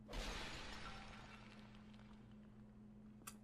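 A ceramic urn smashes in Dark Souls with a sharp crash that fades into a long shattering tail of debris, followed by a brief faint tick near the end.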